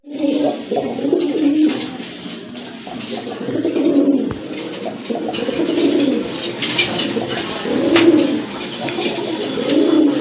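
Large pigeons, including Giribaz pigeons, coo continuously in soft, rolling low calls, several birds overlapping nearby with faint rustling in the background.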